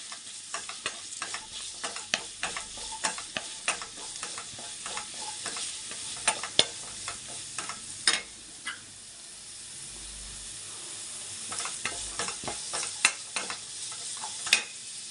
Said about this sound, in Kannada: ಆಮೇಲೆ ತರಕಾರಿಗಳು ಹಾಕೋತಾ ಇದ್ದೀನಿ. ಇದು ಅಷ್ಟೇ ಸ್ವಲ್ಪ ಫ್ರೈ ಆಗಬೇಕು.